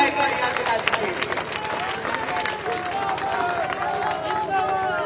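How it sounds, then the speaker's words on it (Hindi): A crowd at a Bahujan Samaj Party political rally in Haryana claps steadily for several seconds, dense applause with a murmur of voices mixed in. "एक बार ताली बजा के जरूर याद दिला दीजिए।"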